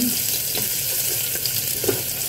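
Garlic dropped into a hot pan while cooking pork ribs gives a steady, close sizzle with faint stirring clicks.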